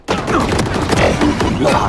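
Dense video-game battle noise: heavy gunfire and explosive blasts rattle continuously and loudly for the whole stretch, with crackling bursts layered over a booming low rumble and no talk.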